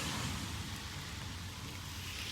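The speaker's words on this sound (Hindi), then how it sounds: "बारिश तेज़ हो गई है" Heavy rain falls beside a large lake in Germany as a faint, steady wash of hiss with no voices.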